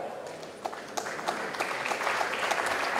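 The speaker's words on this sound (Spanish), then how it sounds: "Fuertes aplausos para ella" Attendees at a circular economy forum award ceremony applaud an honoree, with sparse claps at first that build into steadier, moderately distant clapping from a modest crowd.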